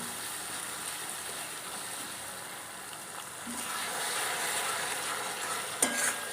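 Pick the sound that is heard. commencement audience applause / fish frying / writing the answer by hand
fish frying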